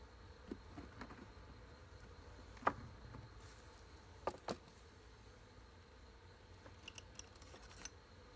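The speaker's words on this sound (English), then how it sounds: "Happy bees." Faint, steady buzzing of honeybees at a hive hums in the background, broken by a few sharp clicks and taps throughout.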